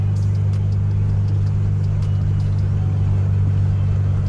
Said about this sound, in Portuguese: E então resolvi dar um rolezinho de fusquinha.